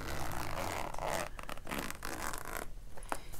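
A makeup bag's zipper is pulled open in a close, crisp run of scratchy teeth-clicking bursts, captured intimately for ASMR with no talking.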